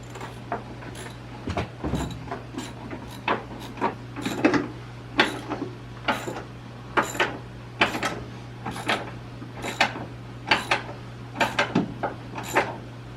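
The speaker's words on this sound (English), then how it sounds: "we're going to need to go right to the ratchet to start threading it in." A ratchet threads a bolt into the driver door of an old, rusty Dodge. It gives a steady series of sharp metallic clicks at close range, with a low electrical hum underneath.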